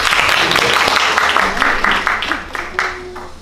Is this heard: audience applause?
yes